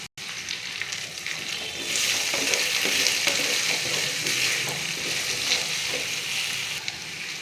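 Cut okra (vendakkai) sizzles steadily in hot oil in a pan over a low flame, with occasional stirring, close and continuous with no talking.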